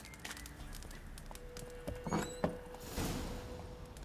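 Horse hooves in The Witcher 3 video game, a few soft clip-clop steps and shuffles at moderate distance, fairly faint beneath light game ambience.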